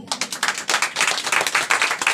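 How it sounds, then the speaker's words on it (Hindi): Congregation clapping at a Christian prayer gathering, a close, lively run of rhythmic handclaps with uneven bursts throughout. "परमेश्वर के लिए ताली बजा दी।"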